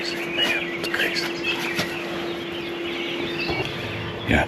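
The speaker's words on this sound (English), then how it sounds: "The birds are so noisy, man, it's crazy." Birds chirping and calling around a tent campsite in Nebraska in the early morning, scattered tweets over a steady low hum of distant highway traffic, with a sharper call near the end.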